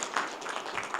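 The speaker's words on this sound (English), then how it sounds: "Okay, so everyone gets a clap." Audience applause at a science, water and nature conference: a dense patter of many hands clapping, steady and fairly close for a second with no talk.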